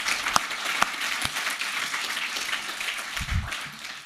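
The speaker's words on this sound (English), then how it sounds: "Round of applause for our underappreciated teachers." Applause from a college audience for teachers at a livestreamed launch event, a steady wash of clapping with a few sharper claps standing out, fairly faint and distant.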